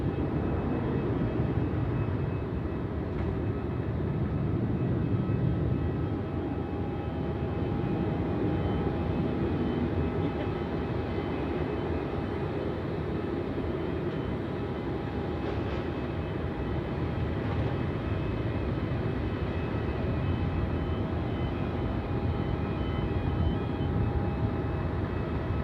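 A Singapore Airlines jet departs runway 27 at Melbourne at night, its engines producing a steady, broad distant roar that holds evenly throughout, with no talking.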